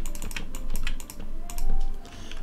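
Typing on a new computer keyboard, with rapid irregular key clicks at close range and fairly quiet, the tapping continuing steadily with no voices.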